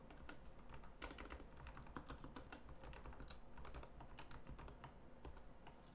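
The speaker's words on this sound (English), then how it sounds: "Type this." Someone types quickly on a computer keyboard, with steady close-up clicking keystrokes that continue without pause and no talking.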